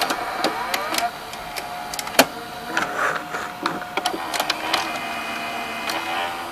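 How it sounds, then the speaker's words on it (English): A Supra SV-80 VM55 TV/VCR combo runs its gear-driven cassette loading motor, giving a whirring mechanical drone broken by several sharp clicks and clunks as the mechanism moves, heard close with light background hiss. "The loading motor, fortunately, it's gear driven"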